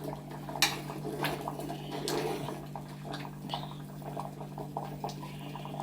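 Sambar with vegetables bubbling in an opened pressure cooker, faint soft burbling with occasional light clinks of utensils, quiet and close with no voices.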